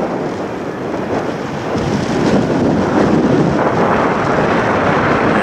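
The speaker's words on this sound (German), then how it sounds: "Also der Wind ist schon heftig." Strong, steady wind roars across the microphone on a bike ride from the beach and harbour into Mandal, Norway. It is a loud, continuous broadband rush that swells slightly partway through, with no talking.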